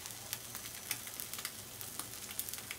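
An over easy egg frying in a HexClad pan gives a constant, close crackling sizzle with small pops scattered across it, and no voices.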